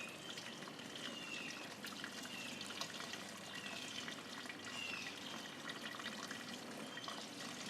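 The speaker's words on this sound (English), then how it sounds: "We're going to pour this back in slowly." Steady liquid trickling and splashing as red ale wort is poured through a colander over grains, a continuous light pour raining down for several seconds with no voices.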